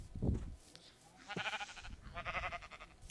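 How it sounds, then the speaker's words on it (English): Sheep bleating in the video game Minecraft: a low thump, then two drawn-out, wavering bleats close up, each about half a second long, sounding with no talk over them. "Sheep!"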